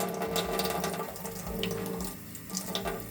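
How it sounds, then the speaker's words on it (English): Tap water runs steadily into a sink, a full, continuous splashing rush with no talk over it. "Got water running down my arm."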